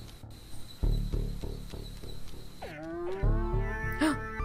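Cattle moo in a long, wavering call in a video game, over a rhythmic, pulsing background beat, with several drawn-out lowing tones toward the end.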